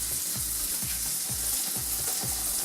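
Seafood pieces fry in hot oil with a dense, continuous sizzle, and stirring or scraping knocks repeat in a quick, steady rhythm. No one speaks.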